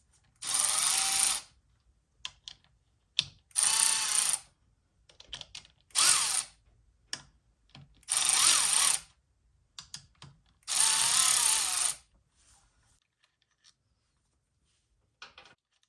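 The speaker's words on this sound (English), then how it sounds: "This is 10mm bolts, and we'll do it in a star pattern and take them out." A ratchet spins out 10mm clutch cover bolts on a 1998–2003 Yamaha R1, five long bursts of rapid clicking between short pauses and scattered small taps, close and clear.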